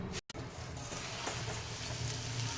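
Pomfret fish coated in rava sizzles in hot oil with a steady, close frying crackle that continues after a brief silent gap near the start.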